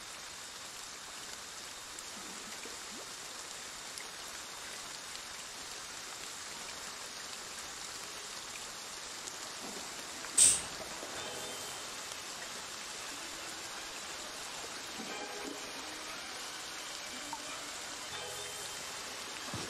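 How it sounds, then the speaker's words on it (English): Rain falling in the video game Friday the 13th, a faint, steady hiss of drizzle that continues throughout, with one brief louder knock near the middle. "It's so rainy."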